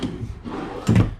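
A wooden silverware drawer in a fifth-wheel camper kitchen slides along its runners and bumps shut, a brief rumbling scrape ending in a soft thud.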